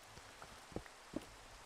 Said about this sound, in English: while it's still raining.